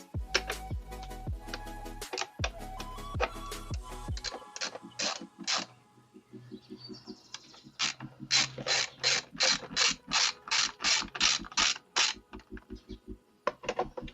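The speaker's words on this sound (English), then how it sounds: "I'm going to use the loosening direction because I have to loosen this nut." A ratchet wrench loosening a nut near a spark plug and ignition coil, loud close clicking bursts at first, then a long regular train of crisp ratchet ticks with a short pause between runs.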